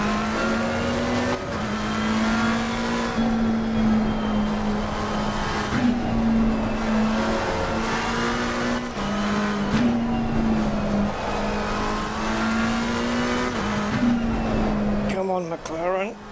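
A McLaren race car engine in Assetto Corsa Competizione at Suzuka drones at a high steady pitch with slight shifts through gear changes and a sharp downshift near the end, loud and continuous under occasional speech.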